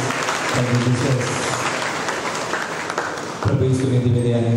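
Sustained, vigorous clapping from a worship congregation at Divine Mercy church in Salun, a full hall of hands going throughout, briefly swelling near the end, with a voice talking over the applause.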